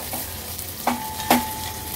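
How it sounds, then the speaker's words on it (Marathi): Soft stirring scrapes in a pan over a faint sizzle of spices and asafoetida tempering in hot oil, with two brief louder clinks of a spoon against the pan. "फोडणी थोडीशी हलवून घ्यायची आहे आपल्याला"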